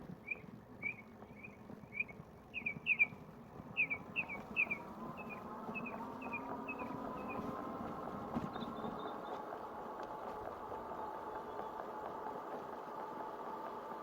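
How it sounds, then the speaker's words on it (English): Small bird chirps repeat in quick, high bursts over a steady low engine-like rumble, then fade as the hum continues alone. "you can actually hear the birds up here. There's a bird up in that tree."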